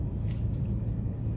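A passing freight goods train gives off a steady, heavy low rumble that holds at one level and stays dense and continuous the whole time, with no voices heard over it.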